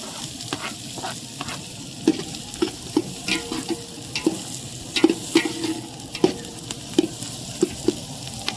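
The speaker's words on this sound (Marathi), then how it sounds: "तेल चांगलं तापलंय. कांदा टाकून घेऊ." Onion fries in hot oil over a wood-fired clay stove for village-style mutton, a steady crackling sizzle broken by regular sharp taps of a stirring spoon, close and clear with no talking.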